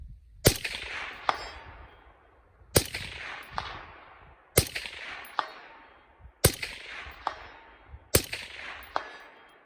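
Five evenly spaced suppressed rifle shots fired through a suppressor cover on a range, each a sharp crack with a second metallic snap just after and a decaying tail, heard alone.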